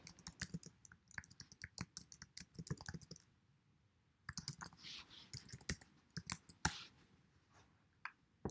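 Rapid typing on a computer keyboard at a desk, with bursts of crisp close keystrokes, a short pause, then more quick clicking and a few heavier key presses, quiet and with no speech.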